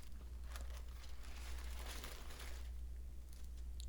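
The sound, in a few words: parchment paper crinkling while flipping a swiss roll cake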